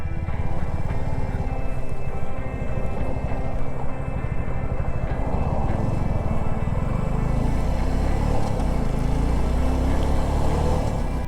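A Suzuki V-Strom SX 250 motorcycle engine drones loud and close as it makes an off-road U-turn, with a steady rumble and wind noise throughout.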